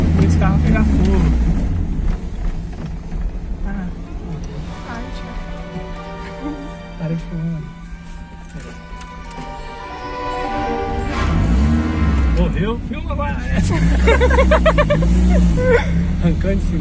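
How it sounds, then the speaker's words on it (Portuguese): Car fitted with a motorcycle carburetor, tuned up and driving, its engine running loud and steady throughout, swelling in revs near the end, while people talk over it. "tamo andando com o carro turbinado"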